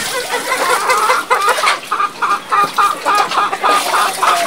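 Chickens cluck in a busy, overlapping chorus at feeding time on a Philippine backyard farm where pigs are also fed, the calls close and continuous with a repeated rhythmic clucking, no talk.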